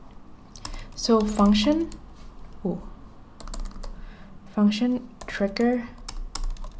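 Keys clatter in quick bursts on a computer keyboard as code is typed, steady clicking close up while someone talks over it.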